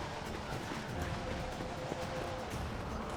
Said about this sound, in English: I should just whistle Roachin right now and start riding him up the mountain.